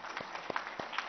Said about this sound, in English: who really deserve a big round of applause